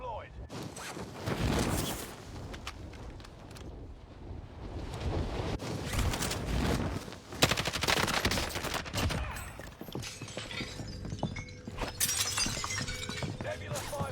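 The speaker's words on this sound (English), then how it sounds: "A Nebula 5 bomb has been deployed." A Nebula 5 bomb goes off in a first-person shooter video game, producing a long, dense barrage of shattering blasts and gunfire-like crackle that rises and falls for many seconds, with speech over parts of it.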